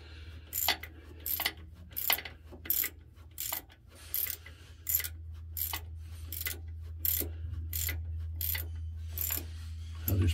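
A ratchet wrench clicks in a dozen short, regular bursts, close and distinct against a low background hum, while snugging bolts on an aircraft supercharger.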